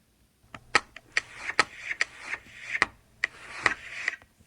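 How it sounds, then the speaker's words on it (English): A thin plastic credit card edge slides and scrapes along a wooden tabletop in a string of short rasping strokes, some with sharp ticks at their starts, close and fairly quiet. "This is the sound of me sliding the thin edge of my credit card along a wood table."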